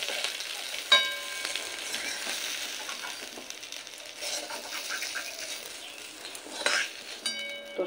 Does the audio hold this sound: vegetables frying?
yes